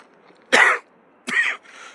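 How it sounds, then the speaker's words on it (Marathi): A person coughs twice, sharp and close, at the last village on the road toward Mount Kailash, with a faint raspy trailing breath after the second cough. "मेन प्रॉब्लेम हे होतो खोकला इथं आल्या की"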